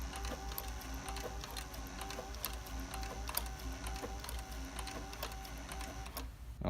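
An industrial sewing machine motor runs while stitching, making a faint, steady mechanical hum with rapid regular ticking from the needle, ending with a brief louder clack.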